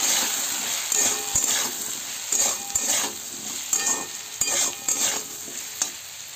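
Potato curry with salt and turmeric stirred in a pan, a spoon scraping in repeated strokes over a constant close sizzle, with a few sharp clicks against the metal and no talk.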